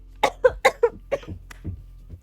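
A person coughs hard in a string of sharp, wet bursts after water went down the windpipe, then trails off into smaller hacks and throat clearing, loud and close.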